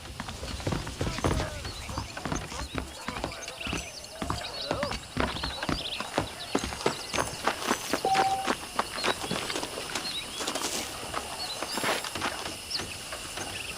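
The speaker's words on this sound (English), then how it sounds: "The horses are saddled up over here." Horses in Red Dead Redemption clatter along with brisk, rhythmic hoofbeats, clear and close, with occasional bird calls and talking voices over the steady clip-clop.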